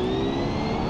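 Gas-powered car engine in the BeamNG driving game, a smooth steady whine with sustained tonal harmonics that sounds almost electric, holding a constant pitch and loudness through the brief moment.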